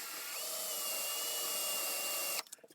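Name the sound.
filing a spinning stub held in a hand drill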